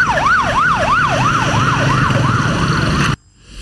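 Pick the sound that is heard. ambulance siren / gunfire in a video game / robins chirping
ambulance siren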